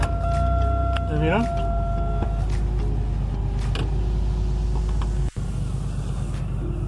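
A Pontiac Grand with a battery that will not hold charge is cranked, giving a steady low motor hum with creaks and a rising whine, close and loud, while someone speaks briefly over it.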